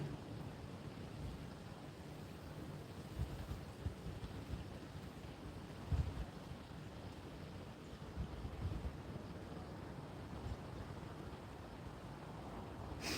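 Steady wind blows outdoors by the water, a low, constant rushing with occasional gusty thumps against the microphone and no voices.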